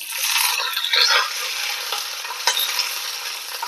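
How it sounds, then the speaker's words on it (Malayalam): Mustard seeds and curry leaves sizzle in hot coconut oil on the stove, a steady close crackle with brief stirring scrapes and no voices. "എണ്ണ ചൂടായിട്ട് ഇതിലേക്ക് കടുകിട്ടു"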